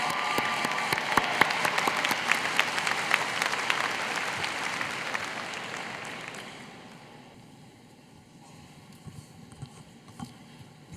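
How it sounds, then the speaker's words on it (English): Audience applause for award winners and teaching assistants at a computer science graduation celebration rings out dense and lively, then thins to a few scattered claps near the end. "Can we get one final round of applause for these award winners and all of the TAs in the Allen School?"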